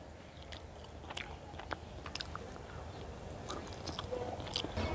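Someone eating a meal, with soft biting and chewing sounds recurring close to the microphone and irregular crunchy clicks over a steady low background, no talking.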